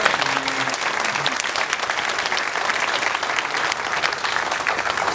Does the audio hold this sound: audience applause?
yes